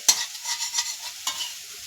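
Grated sweet potato being sautéed and stirred in ghee and oil with chillies, giving a soft continuous sizzle broken by a few sharper scraping stir strokes, close and fairly quiet, with no talk.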